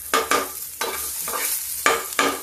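Onion, garlic, ginger and green chili frying in a pan, with a loud close sizzle broken into several bursts of spatula stirring and scraping, and no voices.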